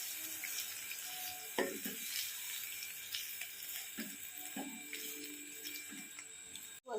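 Fish curry ingredients sizzle and fry in hot oil, a steady broadband crackle running throughout with a few louder stirring bursts and a sharp clatter near the end; no talking.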